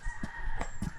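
Chickens clucking and crowing outdoors, several short bursts of fowl calls spaced across a brief moment over a low background rumble.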